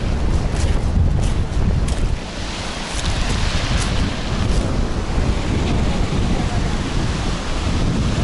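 Steady roar of Black Sea surf at Adler with waves washing in continuously, mixed with gusty wind buffeting the microphone; no voices.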